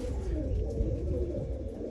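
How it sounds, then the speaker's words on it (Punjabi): Low, soft cooing from a large pigeon runs steadily throughout, a continuous murmuring burble close by with no voices. "ਆ ਚੈੱਕ ਕਰੋ ਵੀਰੇ ਆਪਣਾ ਵੱਡਾ ਕਬੂਤਰ ਬਾਬੇ ਗੁਰਦੇਵ ਘਣੀ ਵਾਲੇ ਕਬੂਤਰਾਂ ਦੇ ਵਿੱਚੋਂ"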